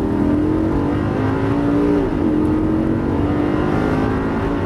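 A Lamborghini Gallardo engine drones loudly and steadily at high revs on a track, its pitch dipping briefly before climbing again.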